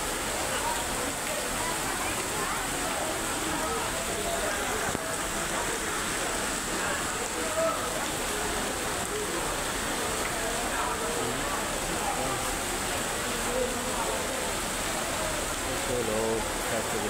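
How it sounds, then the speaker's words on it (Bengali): Heavy rain pours steadily and densely outside a garment factory, a continuous broadband hiss that holds at the same loudness the whole time, with voices talking faintly underneath. "প্রচুর পরিমাণে বৃষ্টি হইতেছে"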